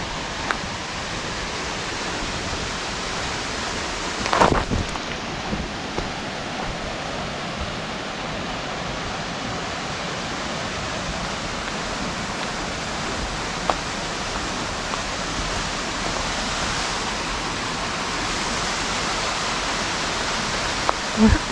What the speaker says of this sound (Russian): Так, водопад уже слышно.